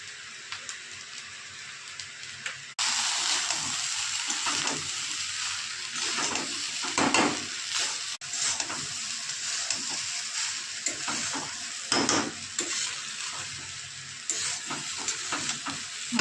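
Food frying in a pan with soy sauce, a steady loud sizzle with stirring and scraping scrapes throughout, sharpening as the sauce hits the hot pan.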